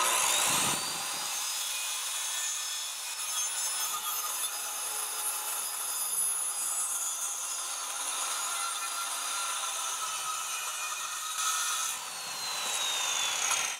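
A power saw cuts through a clamped wood board for an Adirondack chair, whining loud and bright in a continuous, steady cut that lasts throughout, with slight shifts in pitch as the blade works.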